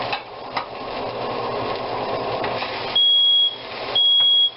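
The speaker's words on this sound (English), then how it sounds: "And the alarm just went off." Two loud electronic beeps from a kitchen oven alarm, each about a second long, sound close by after a stretch of steady mechanical hum and rattling.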